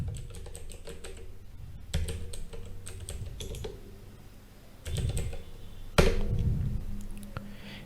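Computer keyboard typing during online store website setup: steady runs of quick keystrokes with occasional louder, sharper taps, close and clear against a quiet room.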